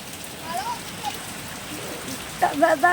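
Steady heavy rain hisses across the whole stretch at night, with brief voices rising near the end.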